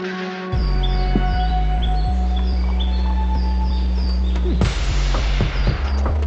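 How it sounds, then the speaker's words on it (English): Birds chirp in a run of short, repeated tweets spread across several seconds, layered over a loud, constant low hum. "all those different sounds, the birds"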